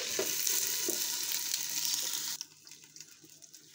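Pelmeni dumplings frying in oil in a pan, a steady broad sizzle for most of the moment that drops sharply, as if covered with a lid, leaving faint crackles near the end.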